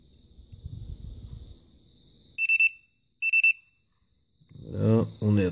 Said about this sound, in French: si je sors mon petit buzzer pour montrer la charge